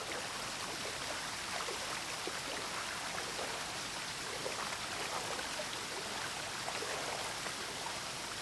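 Rushing water near a waterfall makes a steady, dense hiss that stays even and unbroken throughout, with no voices over it.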